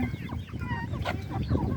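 Chickens clucking while feed is scattered on the ground, several birds giving quick overlapping clucks close by over a steady low rumble, with no voices.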